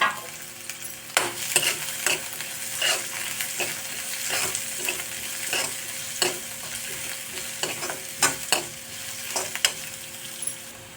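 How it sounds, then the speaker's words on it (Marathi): Finely chopped onion frying in oil for palak bhaji, stirred repeatedly so spatula scrapes and clinks recur over a steady close sizzle, with no voices. "त्याच्यामध्ये बारीक चिरलेला असा कांदा टाकूया। त्याला थोडंसं असं हलवून घेऊया।"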